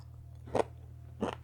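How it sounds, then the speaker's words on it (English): Two crisp crunches of teeth biting into crispy oven-baked bacon, close and distinct, separated by a short pause against a low steady background hum. "You hear that crunch?"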